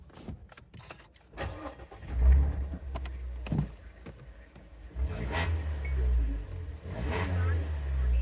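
A Mazda 2 (DJ) engine with its middle resonator removed idles low and rumbling, then revs sharply a few times with a throaty, raspy exhaust note, close by and loud.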